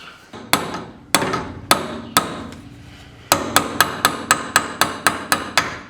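Hammer repeatedly beating the seized threads of a car coilover, sharp metallic blows at first spaced about half a second apart, then a fast steady run of a dozen ringing strikes, loud and close.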